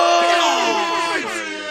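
A blaring air horn sound effect, fired off loudly and steadily in stacked wavering tones for nearly two seconds, fading slightly toward the end.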